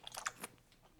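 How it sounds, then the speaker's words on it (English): Raw oysters being eaten at close range, a quick burst of wet chewing and crunchy bites lasting about a second, faint and alone without talk. "Suck, slurp, and chew."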